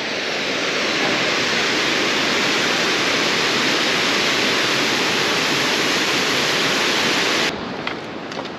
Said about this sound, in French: Regardez cette jolie cascade.